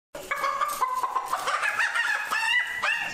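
A chicken clucks and a rooster crows in a short, close burst of fowl calls lasting about three seconds, loud and alone, with no talking.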